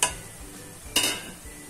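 A spoon stirs a prepared spice mix into simmering tomato gravy in a pan for a stuffed brinjal and potato curry. It makes two short, soft scraping swishes with a faint sizzle between.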